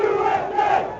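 A violent crowd shouts during the attack on the U.S. Capitol, with loud, dense massed yelling and battle cries that carry on steadily for about a second.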